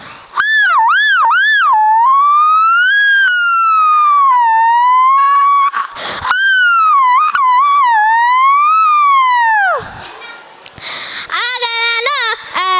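A human voice imitates an ambulance siren at a school day performance, with rising and falling wails and warbles held loud and close for about thirteen seconds, briefly dipping near the end.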